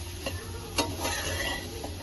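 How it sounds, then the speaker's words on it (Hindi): Mushrooms, soybeans, capsicum, onion and tomato sauté in a pan, with a steady soft sizzle, a few light stirring clinks and a sharper scrape near the start, close and fairly quiet with no talking. "यहाँ पर सब्जियां सॉटे हो रही हैं, बस मशरूम है, सोयाबीन है, शिमला मिर्च है, प्याज है, टमाटर है।"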